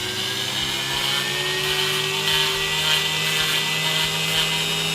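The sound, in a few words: Dremel rotary tool with sanding drum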